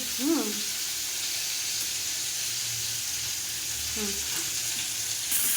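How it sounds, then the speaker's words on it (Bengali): Pieces of potato, pumpkin, papaya and drumstick frying in a pan give a steady, even hiss and sizzle throughout, with a couple of faint background voice fragments. "আলু কুমড়ো পেঁপে সজনে ডাঁটা ভাজা হয়ে গেছে"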